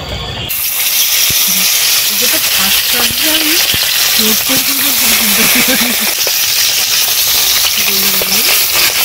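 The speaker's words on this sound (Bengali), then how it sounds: "এবারে মাছ ভাজবো, দিয়ে দিচ্ছি কড়াইতে সরষের তেল" Fish fries in mustard oil in a wok with a loud, steady sizzle and hiss throughout, while a voice murmurs faintly underneath.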